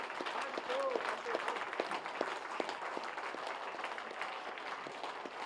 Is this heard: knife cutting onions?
no